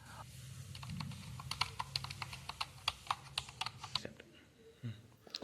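Someone types on an HP K260 wireless keyboard, a run of light, quick key clicks in an irregular rhythm, close and fairly quiet against low background hum.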